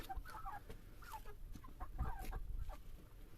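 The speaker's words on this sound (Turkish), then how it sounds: "Kaç tane horoz var burada?" Several chickens and roosters cluck and squawk in overlapping bursts, fairly close by, with a low background rumble.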